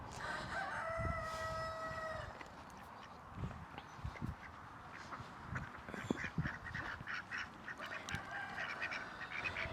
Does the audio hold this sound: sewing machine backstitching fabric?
no